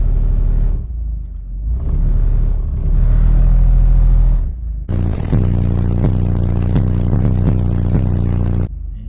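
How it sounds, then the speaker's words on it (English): A Mitsubishi Mirage sits with its engine running, shaking and vibrating in drive. A close, loud low rumble rises and falls with light throttle, then turns into a steady, heavy droning vibration with clattering overtones. "as soon as you put it in the drive, just the whole car is shaking"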